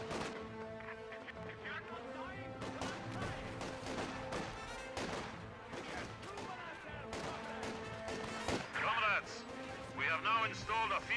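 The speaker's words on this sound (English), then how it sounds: "Scout Sniper is also pitching in some very lethal shots" Sniper rifle shots ring out in Company of Heroes 2, a World War II strategy game, as sharp cracks scattered among a dense battle mix of gunfire and explosions, with a commentator talking over them.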